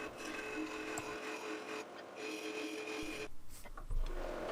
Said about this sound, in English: I begin by turning the inside of the bowl. I'm using a round carbide tooth tool for this cutting.